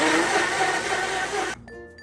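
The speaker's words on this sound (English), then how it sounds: "In a blender, add a half onion, 2 tablespoons of cooked rice, and 2 cups of water." A kitchen blender whirring at high speed through half an onion, cooked rice and water, a loud steady grinding roar that cuts off abruptly near the end.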